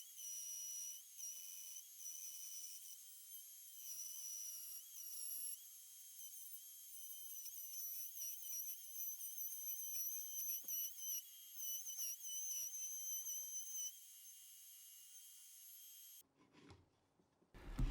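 A router cuts a recess for a router lift into a table saw's wood top, a high steady whine with rough chattering grind as the bit bites, close and loud, then cutting off to handling clatter.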